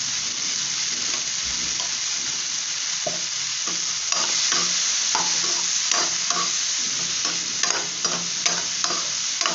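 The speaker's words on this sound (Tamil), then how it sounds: "நல்லா மிக்ஸ் பண்ணுவோம். நல்லா எண்ணெயில் வறுக்கிற மாதிரி ஃப்ரை ஆகட்டும்." Mushrooms coated in turmeric sizzle steadily in hot oil in a pan, with close scraping clinks from a spoon being stirred through them at irregular intervals.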